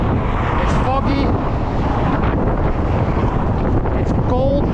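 Strong wind roaring on the foggy, cold Golden Gate Bridge in San Francisco, a loud continuous buffeting rush with brief faint squeaks over it.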